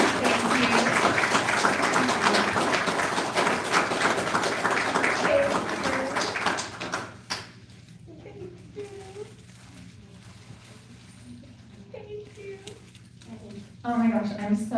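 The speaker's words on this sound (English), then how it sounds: "another big round of applause for them" Audience applause fills the room for about seven seconds after a Humanities Academy senior capstone presentation, dense and steady, then dies away into quiet chatter and light movement, with a brief burst of clapping near the end.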